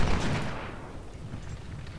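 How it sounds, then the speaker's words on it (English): Enemy artillery fire in the Ultimate General: Civil War video game, a distant dull rumble that starts louder and fades into a low sustained roll of booming with no voices. "Enemy artillery is packing up over here, opening on our flank."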